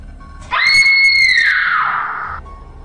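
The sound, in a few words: woman screaming loudly, story sound effect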